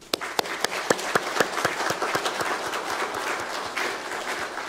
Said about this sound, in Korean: 우리 축하로 크게 박수하겠습니다